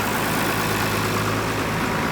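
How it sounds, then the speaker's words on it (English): A farm tractor's engine idles steadily nearby during a corn harvest, a dense, continuous rumble with no pauses or voices. "I pulled up the tractor close here."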